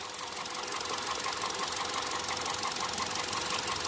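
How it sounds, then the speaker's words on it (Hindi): Hyundai i10 engine idling with a misfire, one cylinder disconnected, giving a steady close rumble with a rhythmic knocking tick throughout. "देखो दो नंबर सिलेंडर काम नहीं कर रहा, निकाल के हटा दिया, बिल्कुल थोड़ा सा भी असर ना पड़ रहा है"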